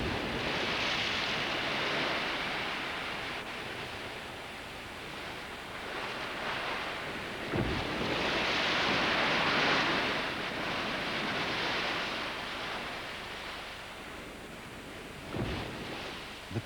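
Ocean waves surge and break against a rocky penguin island shore, a broad continuous roar of surf with swells rising and falling and brief sharper crashes, no voices.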